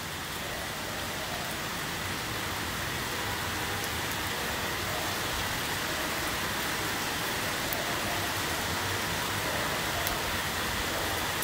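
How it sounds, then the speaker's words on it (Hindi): Steady rain falls outdoors in Patna, making a dense, even hiss that stays constant and moderately loud throughout, with no voices. "आज बारिश बहुत दिन बाद हुआ है और मजा आ रहा है इस बारिश में।"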